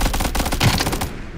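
MP5K submachine gun fired in PUBG, a loud, close, rapid burst of closely spaced shots lasting about a second before it cuts off.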